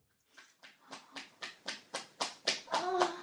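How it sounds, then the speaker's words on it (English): A round of hand clapping, about ten sharp, evenly spaced claps building in loudness, with voices joining near the end. "that was a round of We're applause"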